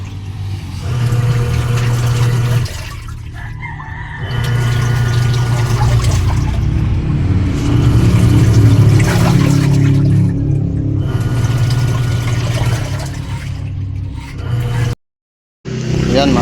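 Water draining from a Sharp automatic washing machine through its drain motor, a loud continuous gushing rush with a low motor hum, briefly easing and resuming, then cutting off abruptly near the end.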